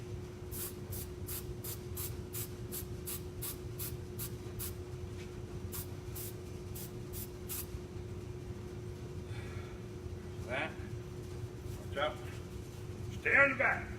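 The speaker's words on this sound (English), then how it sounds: "Glue's getting sprayed." Spray glue hissing out onto a car seat in short, rapid bursts, followed by a few rustling, scraping handling sounds, close but fairly quiet over a steady background hum.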